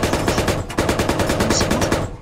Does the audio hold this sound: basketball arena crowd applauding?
no